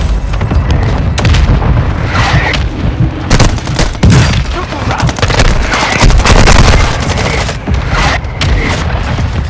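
Mortar strike explosions in Call of Duty Warzone 2.0 boom loud and close amid sharp bursts of gunfire, several heavy impacts landing over a few seconds.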